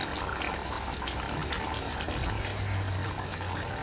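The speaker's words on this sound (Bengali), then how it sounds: "তো দেখো নেড়ে দিচ্ছি। আজকে এই কড়াইয়ে বানাচ্ছি, ননস্টিকের কড়াইয়ে বানাচ্ছি।" Mutton curry cooking in a non-stick wok while being stirred, a continuous dense bubbling and wet sizzle that stays close and steady throughout, with a faint low hum in the background.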